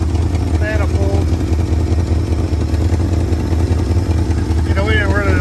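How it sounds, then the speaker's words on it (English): A 1971 Ford F250 truck's warmed-up engine idles steadily and loudly close by, a low, even throb with slight clatter, while someone talks briefly over it. "it's idling nicely once it warmed up"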